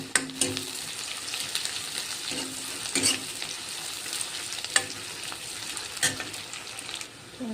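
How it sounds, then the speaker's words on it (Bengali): Green chillies and onion fry in hot oil in a wok, giving a steady crackling sizzle broken by sharp scraping and clattering stirs at irregular intervals, close and fairly loud. "কড়াইতে কাঁচামরিচ আর পেঁয়াজ দিয়ে দিচ্ছি আমি।"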